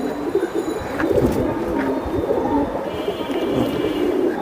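A silver Giribaz pigeon coos softly and repeatedly amid steady background noise, with no voices over it.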